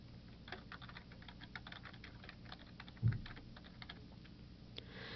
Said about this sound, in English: Here I'll type State University Bookstore